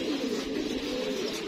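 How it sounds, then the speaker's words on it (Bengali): Pigeons beat their wings above a house, a steady fluttering whir heard close and continuous, with no talk. "এই যে বাড়ির উপর থেকে আরো 2টা কবুতর পর পিটাইতেছে"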